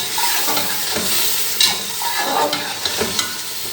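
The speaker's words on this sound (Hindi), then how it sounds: "ये मटन जो है वो इसमें ऐड करेंगे और इसको भी भूनेंगे 2 से 3 मिनट के लिए" Boiled mutton frying and being stirred in a pot, a steady bright sizzle with scraping stir strokes and small pops throughout, close and alone without talk.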